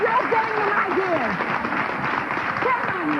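Studio audience applause from a daytime talk show crowd, a dense steady wash of clapping running throughout with voices talking and reacting over it.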